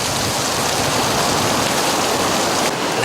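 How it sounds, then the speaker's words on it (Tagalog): Heavy rain pours down in Zambales, a dense, loud, unbroken hiss of water hitting surfaces, steady throughout with no voices. "Muling bumuhos ang malakas na ulan sa buong Zambales"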